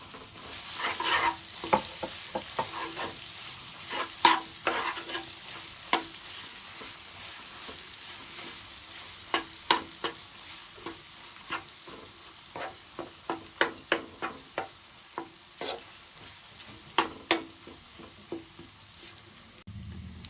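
Ground nalleru chutney stirred into a hot tempering in a pan, with a steady sizzle broken by frequent scraping stirs, close and clear with no voices.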